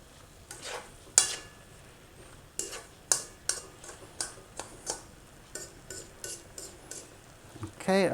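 A utensil stirs celery leaves into baked shrimp with glass noodles in a pan. Repeated scraping and clinking strokes land at an uneven pace over a soft sizzle.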